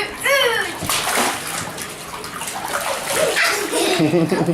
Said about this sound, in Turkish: ben havuzun içerisinde yine atlayacağım